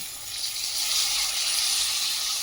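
Steady, bright sizzling hiss from a hot pan as vegetables such as field beans, hyacinth beans and peas go into spiced oil with coriander powder for a Bhogi vegetable dish; loud, continuous and close, with no talking.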